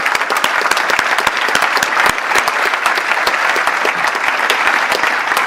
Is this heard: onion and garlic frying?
no